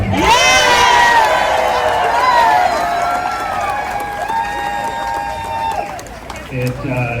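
A large No Kings protest crowd in Lexington cheers and shouts loudly, with many overlapping voices whooping and calling out. The roar is strongest at first, then settles into continued scattered yelling.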